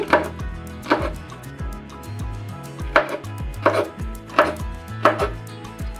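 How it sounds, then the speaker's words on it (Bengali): Malabar spinach fruit stalks are chopped into small pieces on a board, a close sequence of sharp knife thuds coming in quick bursts and single strikes, about eight or nine distinct chops with no voices. "তো এখন এটাকে কেটে নেব এভাবে করে ছোট ছোট করে কেটে নেব"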